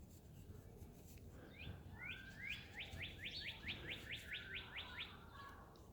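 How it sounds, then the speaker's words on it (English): A cardinal's song rings out as a steady series of around a dozen sharp, upward-sweeping chirps, fairly close and distinct above faint background noise, with no voices. "There's a nice cardinal chirping away."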